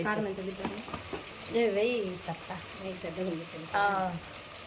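Spices, including coriander powder, sizzle steadily in hot oil for a dried fish curry, a close, continuous frying hiss that runs beneath someone speaking.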